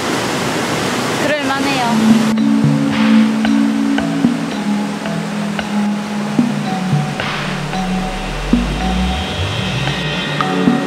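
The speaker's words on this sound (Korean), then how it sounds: "이렇게 큰 폭포를 볼 수 있습니다." Large waterfall at Plitvice Lakes in Croatia roars as a steady broadband wash of falling water, heard close, beneath a person talking briefly and a few other voices nearby.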